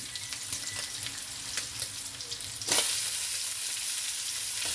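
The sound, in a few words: shrimp added to pan and frying for pancit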